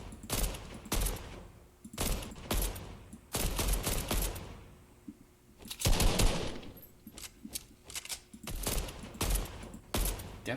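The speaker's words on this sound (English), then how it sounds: "And this is the heavy assault rifle." Heavy assault rifle firing in the Fortnite video game, heard as loud rapid bursts of automatic gunfire broken by short gaps, with a sustained louder volley in the middle.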